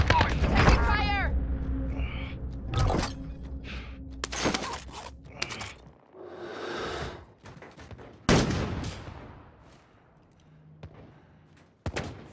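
Helicopter gunfire in a video game: repeated loud bursts of shots and heavy impacts, close and harsh, with someone talking over parts of the barrage.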